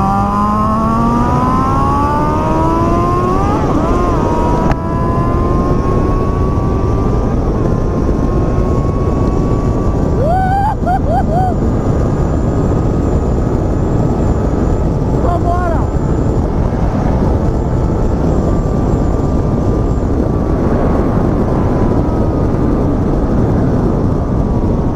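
A Yamaha MT-07 motorcycle engine roars on a ride, its pitch climbing and falling through the gears under heavy, steady wind rush. The sound is loud and close throughout.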